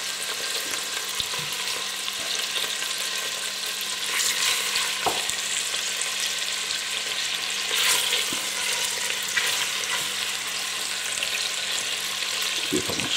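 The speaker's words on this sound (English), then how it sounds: "the butter's just about melted and it's slightly frothing, so let's put the chicken in there" Chicken pieces frying in slightly frothing melted butter for chicken chasseur, a steady close sizzle and crackle with a few soft clinks and stirring noises, no talking.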